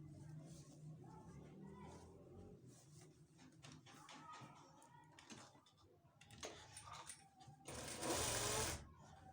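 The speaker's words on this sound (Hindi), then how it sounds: "जिसको हम यहाँ से यूँ सिलाई कर देंगे" A sewing machine stitches fabric for a child's shalwar, giving a faint, steady mechanical whirr with tapping bursts and a louder run near the end, under quiet background sounds.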